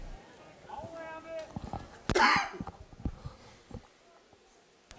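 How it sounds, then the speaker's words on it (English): A man with a sinus infection coughs sharply and loudly once near a microphone while calling a high school baseball game, amid faint speech and background sounds from the field. "I know you all are hearing a lot of coughing and everything."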